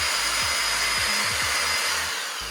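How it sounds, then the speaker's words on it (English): Drill boring 3/4 inch holes through steel beams of a home garage gantry crane, a loud continuous whining motor with a steady high-pitched drone that tapers slightly toward the end. "drilling 3/4 inch."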